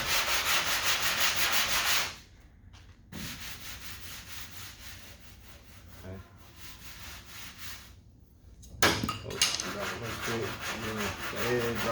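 Bondo body filler on a car dent repair is sanded with steady back-and-forth rubbing strokes, loud and close. The rasping eases midway during a short pause and then resumes strongly.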